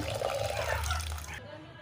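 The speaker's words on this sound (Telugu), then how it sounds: "ముందుగా నానబెట్టుకున్న చింతపండు పులుసును అయితే ఇందులో యాడ్ చేసుకోవాలి" Soaked tamarind juice poured into a simmering sardine fish curry with cooked tomatoes, a close, steady liquid splashing that stops abruptly.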